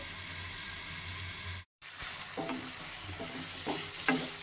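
Morola fish with green tomato frying in a pan, with a steady soft sizzle broken by a brief silent gap and then a few light scraping stirs.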